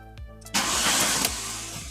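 A Volkswagen Golf 3 converted to E85 ethanol cranks briefly, then catches and settles into a steady, close, rough idle.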